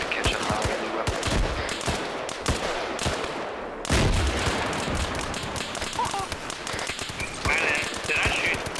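Rapid bursts of video game gunfire crackle through a busy multiplayer firefight, with repeated sharp shots and machine-gun rattles layered over each other while players talk underneath.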